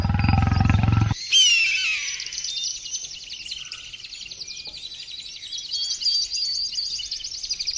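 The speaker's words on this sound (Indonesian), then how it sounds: "Aku yakin itu singa atau harimau pemangsa manusia." A big cat, a lion or tiger in a wild jungle setting, gives one loud, deep roar at the start, then it cuts off abruptly and birdsong and chirping carry on alone.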